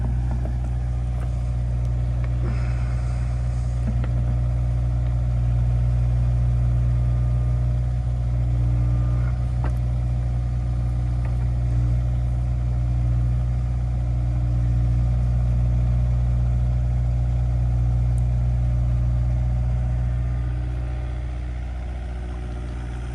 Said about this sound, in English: I'm a dummy. I left the diesel truck running.